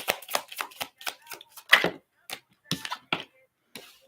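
Tarot cards are shuffled by hand close up, giving a run of quick, crisp papery riffles and taps in uneven rhythm with brief pauses between.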